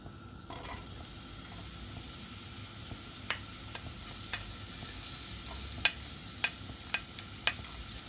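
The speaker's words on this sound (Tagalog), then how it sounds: "igisa na natin guys ang onion" Onion sautéing in butter in a pan gives a steady soft sizzle, close and fairly quiet, with a few sharp scraping taps of a utensil against the pan near the end.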